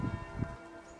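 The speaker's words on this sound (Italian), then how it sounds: "Nel frattempo le campane suonano le 12." Church bells in Slovenia ring out at noon, a faint, distant resonant tone with a couple of soft strikes early on over a steady outdoor hum, lasting about a second.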